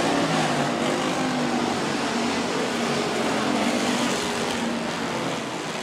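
Sportsman class race cars roar around Rapid Speedway in a steady, dense wash of engine noise that holds at an even level throughout, with no voices breaking through.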